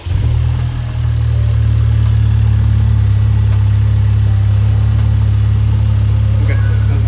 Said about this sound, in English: So the idle's gonna be very high at first.